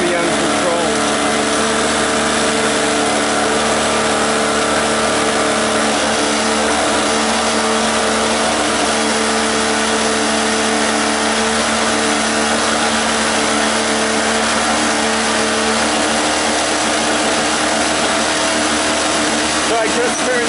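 A cheap $5 portable generator engine racing uncontrolled at a steady, loud, high-pitched roar, running continuously and close by without letting up.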